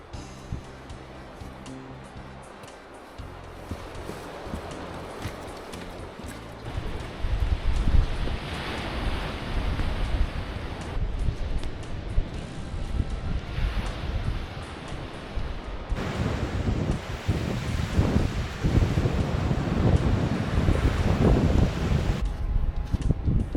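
Ocean surf rolling onto a Juan de Fuca shore about an hour before high tide, a broad continuous roar swelling and easing, mixed with wind buffeting the microphone.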